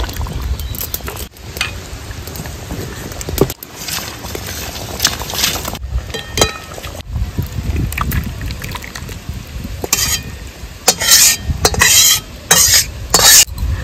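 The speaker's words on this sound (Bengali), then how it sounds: "এবার আমি দিয়ে দেবো বেটে রাখা গোটা গরম মশলা।" Ground whole garam masala stirred into chicken stomach, liver and heart cooking in a pan in a village kitchen, giving loud, continuous scraping and sizzling with sharp clinks of a spoon against the pan, no talk.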